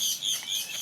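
Parrot calling at a zoo: a quick series of shrill, high chirping calls, close and fairly loud, in a brief burst of under a second with no talk.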